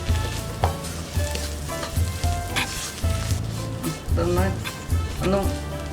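Onions with coriander powder, garam masala and turmeric sizzle in a pan for mutton biryani while a spoon scrapes and stirs in bursts. Someone talks over the frying.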